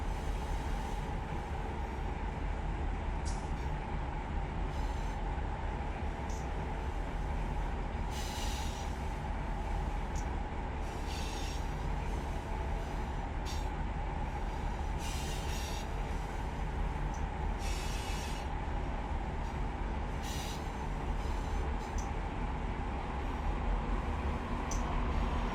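A freight train with a distributed power locomotive rolls past on the Needles Subdivision, a steady loud rumble of wheels and cars running without a break, with faint intermittent squeals and hisses over the top.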